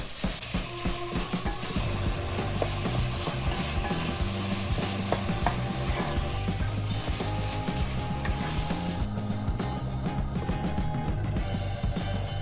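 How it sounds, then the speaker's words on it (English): Meat for an eggplant lasagna being stirred in a hot pan, with steady sizzling and scraping, clattering utensil strokes against the pan, close and continuous throughout without speech. "I give it a good stir."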